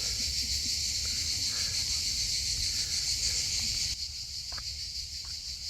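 Grasshoppers in Spain chirp in a dense, continuous high-pitched buzzing drone that fills the air steadily and loudly, with faint low background noise beneath and no talking.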